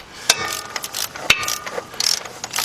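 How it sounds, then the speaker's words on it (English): A ratchet wrench working on a 2007 Nissan Murano 3.5 engine during an oil filter housing gasket job, giving a series of quick, close metallic clicks and ratcheting sweeps in short irregular strokes, with no talk. "Get our 7/8 wrench. Bring ratchet."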